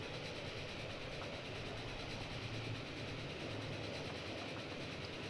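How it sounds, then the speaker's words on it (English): Trains rolling by on a viaduct in the game Transport Fever 2, a steady rumble with soft clickety-clack of wheels on track running continuously at moderate level. "Oh, there's another train going the other way."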